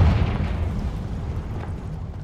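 A fiery spell blast from the Hogwarts Legacy game bursts loudly at the start, then a rumbling roar of flames and debris rolls on and slowly fades.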